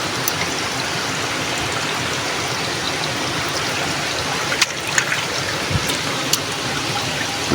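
A strong stream of water pours down from above, making a loud, constant rushing and splashing roar with a few sharper splashes, close by and steady, with no talking.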